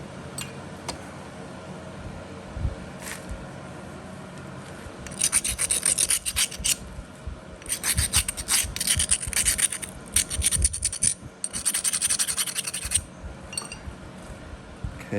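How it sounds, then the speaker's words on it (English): Flintknapping with a punch to notch a small stone point: bursts of gritty scraping and rasping grind in short clusters, with occasional light clicks and taps, close and clear. "Do some punch notching."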